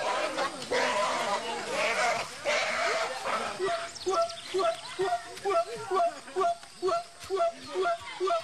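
A pig chosen for slaughter at a village feast squeals and grunts in a steady series of short, regular cries, close and fairly loud, with people's voices and commotion earlier in the scene.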